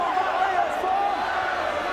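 Steady crowd noise from a rugby league match at Craven Park against the Bulldogs, a broad continuous murmur of about two thousand spectators that sits behind a commentator's voice throughout.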